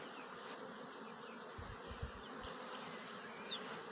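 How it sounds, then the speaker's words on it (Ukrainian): Honey bees fly in and out of an eight-frame hive, a steady soft buzzing drone that is close and continuous, with a few low thumps partway through. "Дивіться, який льод гарний. Ну, як бджолки."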